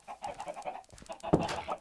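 Minecraft chickens cluck in a farm pen, short bursts of clucking repeating through the clip, with one louder, nearer squawk toward the end and no talking.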